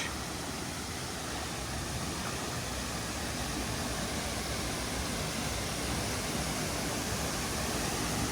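Ilıca Waterfall at the end of Horma Canyon gives a steady, dense roar of falling water, an even broadband rush that fills the whole span without a break.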